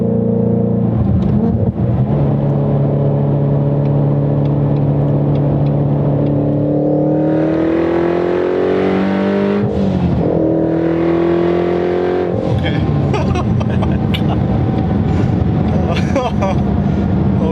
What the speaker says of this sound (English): And I feel the hissing sound of the turbo.